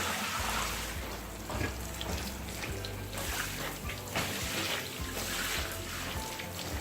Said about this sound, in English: So I will keep rinsing until the water runs completely clean.